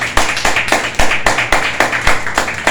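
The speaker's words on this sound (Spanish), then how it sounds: "Denle un fuerte aplauso al Señor." A church congregation claps together in a loud, steady rhythmic beat of roughly three claps per second, close and continuous.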